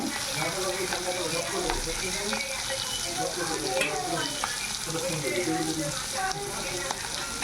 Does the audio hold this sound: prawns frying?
yes